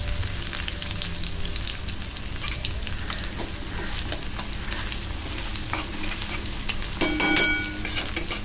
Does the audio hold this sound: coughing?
no